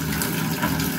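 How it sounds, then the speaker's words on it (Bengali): Tap water gushes steadily into a measuring pot for cooking rice, a loud, continuous close splashing stream with no pauses and no talking. "3 পট চাল নিছি, তার জন্য 6 পট পানি নিচ্ছি"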